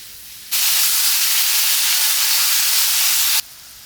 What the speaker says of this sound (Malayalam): അരിഞ്ഞത് നമുക്ക് വഴറ്റിയെടുക്കാം തക്കാളിയും ചേർത്ത്